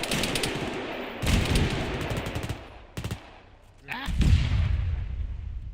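Video game gunfire crackles in dense bursts and volleys, loud and close at times with pauses between, set in a battlefield skirmish with players calling out positions over it.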